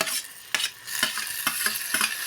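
Tomatoes and coriander tipped into a hot frying pan for Mysore dal, giving a steady sizzle with several sharp scraping stirs roughly every half second, close and fairly loud, with no talking.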